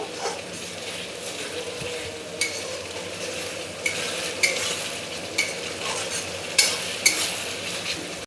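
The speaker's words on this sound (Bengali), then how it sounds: "মশলাটা দেওয়ার পর আমি ভালো করে এটাকে একটু কষিয়ে নেব।" Spices being stir-fried in a pan for a home-cooked dinner, a steady close sizzle with scraping stirs and occasional sharp utensil clinks against the pan.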